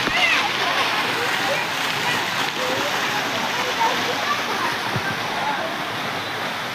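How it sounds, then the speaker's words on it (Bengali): A fountain waterfall splashes in an amusement park, giving a continuous, even rush of falling water close by that holds steady throughout, with possible voices faint in the background. "ঝর্ণাটা খুব সুন্দর"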